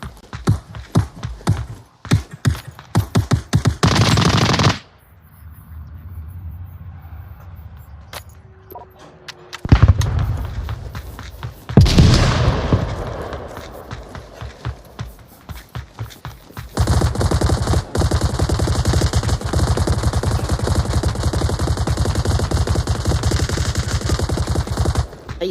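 Bursts of Tommy gun fire in the VR shooter Onward VR, rapid automatic volleys with loud clattering shots, pauses between bursts and a long sustained stretch of continuous firing near the end.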